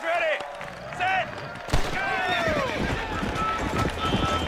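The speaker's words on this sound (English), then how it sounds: "we need to follow all these horses" Horses gallop in a race in the video game Red Dead Redemption, with loud, rapid hoofbeats and neighing mixed with game voices and background noise throughout.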